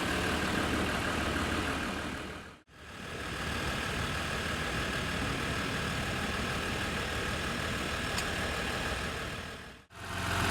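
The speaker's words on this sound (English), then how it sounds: "powering the Ram 1500 here is a 3-liter diesel V6 engine" A 2016 Ram 1500 Laramie EcoDiesel with a 3-liter diesel V6 runs steadily, a continuous even engine drone broken by two brief dropouts, no voices.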